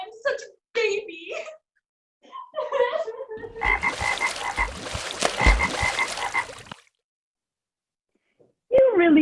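A small frog character's voice imitates croaking in a dense, rasping burst that lasts several seconds, with spoken lines before and after it in a children's stage fairy tale.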